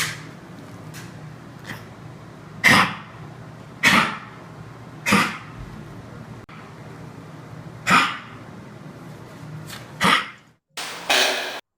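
A dog patient coughing in short, harsh bursts, spaced irregularly with a couple of quick double hacks near the end, close and loud against a quiet background.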